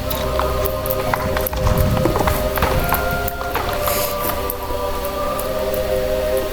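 Horses clip-clop along in the Star Stable Online game, a steady run of hoofbeats over a constant layer of game music and ambience, with no talking.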